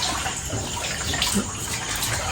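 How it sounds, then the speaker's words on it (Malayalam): Steady rushing water flows out continuously, loud and close, with no voices. "ഞാൻ ഇതിപ്പോൾ വെള്ളം കളയാം"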